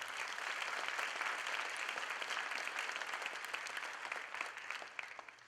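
Sustained audience applause at a 4-H campaign rally, dense steady clapping from a large crowd filling the room, tapering slightly toward the end with no voices.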